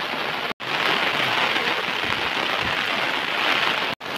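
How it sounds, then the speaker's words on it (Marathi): Heavy rain driven by wind pours steadily onto a Konkan rice field during transplanting, a dense, loud, unbroken hiss that cuts out twice for an instant. "पाऊस बघा किती जोरात लागतो तो बघा"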